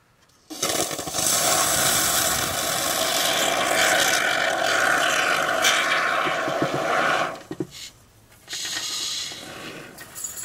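Great Stuff spray foam hisses steadily from the can as it is sprayed into a floor penetration beside an electrical panel, a loud continuous spray that cuts off, pauses briefly, then resumes.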